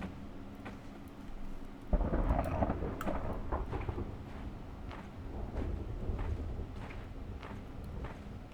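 A video game thunderstorm: a heavy thunder crack breaks in near the start, followed by rumbling and a steady rain wash with scattered sharp impacts.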